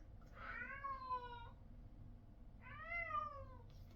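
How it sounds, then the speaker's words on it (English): A domestic cat meows to be let outside, two drawn-out rising-and-falling meows spaced a second apart, fairly faint in a quiet room with a low background hum. "I swear I'm not torturing a cat in the background."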